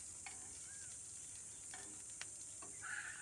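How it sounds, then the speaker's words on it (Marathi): Mandeli fish fry in plenty of oil and get flipped to the other side, a constant hiss of frying with a few faint clicks and scrapes from turning the pieces. "हे दुसरी साईडने सगळं पलटी करत आहे"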